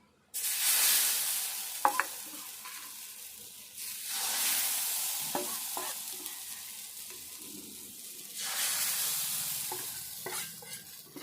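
A potato dosa cooking on a hot pan gives bursts of sizzling and hissing in three long waves, with occasional light clicks and scrapes between them, fairly quiet and without talk.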